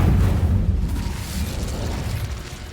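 Incendio fire spell cast in Hogwarts Legacy, a heavy low whooshing burst at the start that rumbles and slowly fades into a sustained roar.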